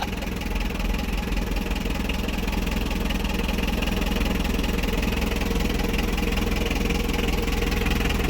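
A Honda H100 motorcycle engine idling after a general overhaul, a steady, close, loud putter with an even mechanical rattle that holds unchanged throughout with no talk.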